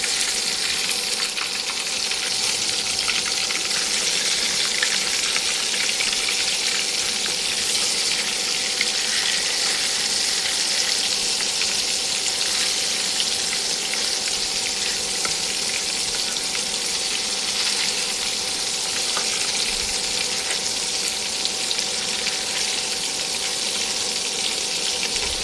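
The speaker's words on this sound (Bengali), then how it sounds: "ততক্ষণ মাছ ভাজতে থাকি" Fish sizzles in a hot pan while a spicy radish-and-fish curry is being prepared, a steady crackling hiss running unbroken and fairly loud, with no speech.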